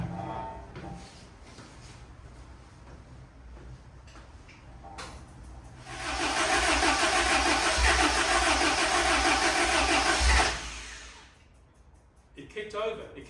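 A Caterham Seven's engine cranking and kicking over, a close, rising burst of loud mechanical roar lasting about four seconds before dropping away, preceded by quieter ticking and rustling, with voices nearby.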